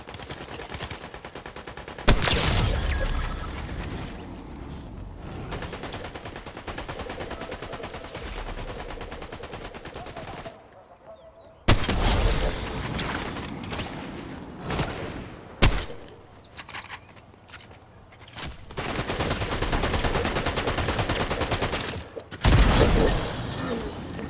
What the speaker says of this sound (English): I can see the bullets firing.